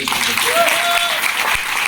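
Loud audience applause at a business motivational event, a dense sustained clatter of clapping with some voices and cheers faintly mixed in.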